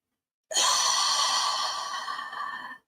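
One long, close exhale through the mouth, a breathy rush that starts abruptly and slowly fades over about two seconds, with no talking.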